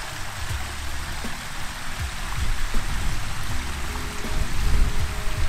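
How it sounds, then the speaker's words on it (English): A gigantic two-tier waterfall in a Malibu backyard near a grotto gives a constant rushing, splashing roar of falling water, steady and fairly near. "Those people are so lucky to have this awesome, gigantic two-tier waterfall in their backyard."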